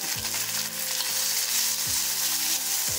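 Spinach and spices for palak paneer are sautéed in a pan, producing a bright, constant hiss of sizzling with a few stirring knocks.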